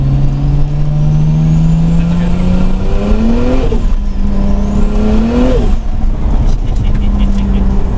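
A 600 hp single-turbo Toyota Supra pulls hard in fourth gear, its engine note climbing steadily and loud from low revs, briefly dipping around a shift-like break before rising again, with a voice speaking faintly beneath.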